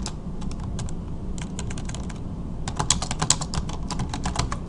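Rapid keystrokes on a computer keyboard while a message is typed, a close, steady patter of clicks that grows a little busier and louder toward the end.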